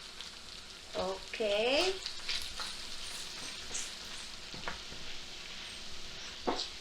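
Ground pork and green beans stir-fry in a pan for a vegetable spring roll filling, a soft steady sizzle with a few sharp scrapes and clinks as a brief voice speaks over it.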